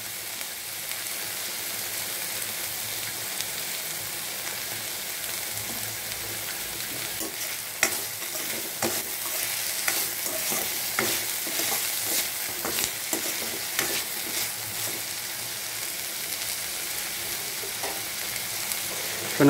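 Onions sizzle with masala in a hot pan for egg podimas, giving a steady close-up hiss of frying with occasional scrapes and clicks from stirring, and no voices over it.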